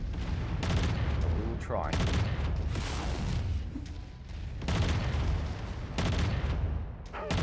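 Burst-fire autocannon volleys in the MechWarrior 5 game, heavy booming shots arriving in repeated clustered bursts with short gaps between them, loud and close, with a voice speaking briefly over the gunfire.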